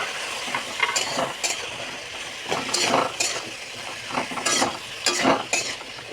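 A spatula stirs and sautés a prawn curry with elephant foot yam, potato and eggplant in a pan, steady sizzling broken by repeated scraping strokes and light metal clinks, close and moderately loud with no talking.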